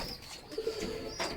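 A pigeon in a loft gives a brief, soft coo, close by and quiet, with faint background hiss around it.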